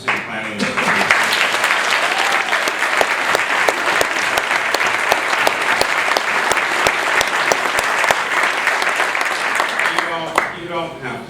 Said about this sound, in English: I want to ask that we give a huge round of applause to our graduates from the City Planning Association.